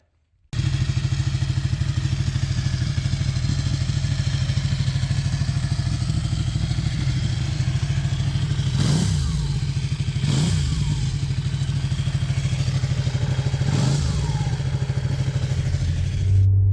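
A 2004 Lexus RX330 drives along with a steady, close engine and road drone, its cabin rattling and thumping over a few bumps, with no talking.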